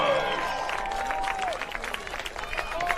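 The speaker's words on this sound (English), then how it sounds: "Let's give them a big round of applause." Stadium crowd at a Clark Atlanta University Panthers college football game applauding the seniors, a steady wash of clapping and cheering with a voice on the public address heard over it.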